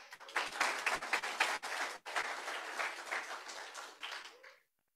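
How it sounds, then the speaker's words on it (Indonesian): Applause from a church congregation during a sermon, a fairly loud patter of many hands clapping at an uneven pace that fades out after a few seconds. "Yang tepuk tangan cuma 1 orang."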